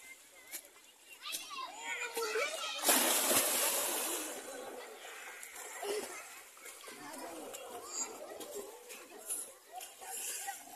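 Children splashing in water while learning to swim on a free Sunday, with sloshing and splatter throughout and a sharper burst of splashing partway through, and children's voices chattering and calling over the water.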